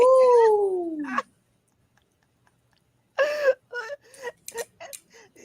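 A dog whimpering and whining, a long falling high-pitched wail followed after a pause by several shorter whimpers and whines, close and fairly loud with brief silences between.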